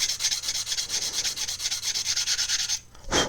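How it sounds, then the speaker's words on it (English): A sanding stick rubs back and forth on a scale model AEC bus, making rapid rhythmic rasping strokes close up for about three seconds, then a brief pause and one last stroke. "the sanding stick is wonderful."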